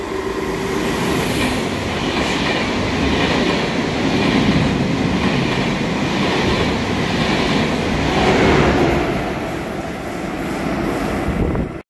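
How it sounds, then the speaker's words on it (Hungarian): An ÖBB train passes close by near Parndorf on an Austrian line with a steady, loud rumble of wheels and rail noise lasting throughout, with no speech. "találkoztunk egy ismerős, Magyarországon is járó vonattal"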